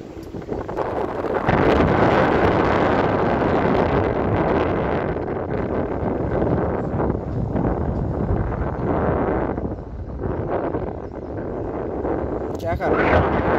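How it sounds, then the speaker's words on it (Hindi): Strong wind roars steadily against the microphone high on a tower crane at its outer position, a loud, gusting rumble with people talking faintly beneath it. "हाँ हवा भी मस्त चल रहा है यार."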